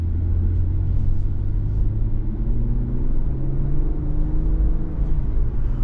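A new 2023 Infiniti Q50 Red Sport 400 cruises along rural back roads near Hopewell, heard from inside as a steady, loud low engine and road rumble with a faint slowly rising whine, no talking.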